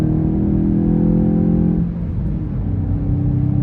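A 2023 VW Golf GTI engine accelerating up an on-ramp onto a highway, a steady, close, loud engine drone that holds its note and then drops in pitch as it shifts gear midway, with no talking.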